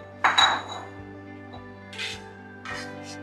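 Diced onion is moved into a separate bowl, giving a few close, bright clinks and knocks of utensil on dishware spaced through the moment, with light scraping between and a steady low hum underneath.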